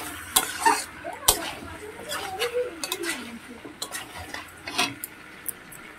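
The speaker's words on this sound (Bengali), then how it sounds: "আলুগুলোকে চিকেনের সঙ্গে ভালো করে ভেজে নেবো।" Potato pieces frying with chicken in a pan, stirred with a utensil that scrapes and clinks against the metal at intervals over a soft background sizzle, with faint voices briefly in the background.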